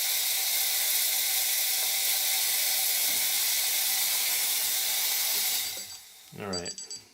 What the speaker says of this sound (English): I was trying to steam for a cappuccino